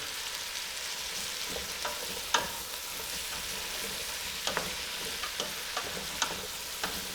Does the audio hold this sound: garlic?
yes